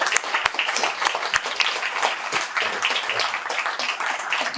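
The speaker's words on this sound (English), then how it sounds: "So join me in a round of applause." Audience applause at a conference introduction, a dense, even patter of many hands clapping at moderate distance that carries on steadily through the whole stretch.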